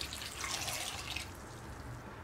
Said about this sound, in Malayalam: ഇതിലേക്ക് കറക്റ്റ് 1 കപ്പ് വെള്ളമൊഴിച്ച് കൊടുക്കുക.